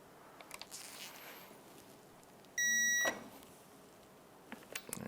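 A digital torque wrench gives one steady electronic beep lasting about half a second as a bolt on a Yamaha YXZ1000R engine reaches 25 foot-pounds, with faint clicks and handling noise around it.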